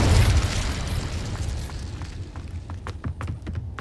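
A fire spell blast from Hogwarts Legacy bursts out loud at the start, a heavy booming roar that fades into crackling rumble with scattered sharp pops toward the end.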